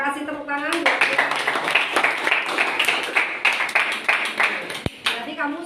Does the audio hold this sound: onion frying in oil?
no